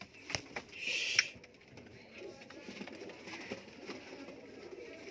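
Pigeons of the zaaldaar kalsira dabbwale breed coo softly in short, low murmurs over a steady background rustle, with a brief louder burst near the start and faint voices nearby.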